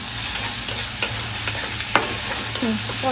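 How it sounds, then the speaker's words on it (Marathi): Semolina sautéing in a pan for upma as a spoon stirs and taps, a steady sizzle punctuated by regular sharp clicks and scrapes about every half second, near and free of speech. "आता हे थोडंसं परतून घ्यायचं व्यवस्थित असं."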